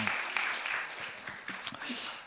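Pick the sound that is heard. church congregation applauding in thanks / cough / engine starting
church congregation applauding in thanks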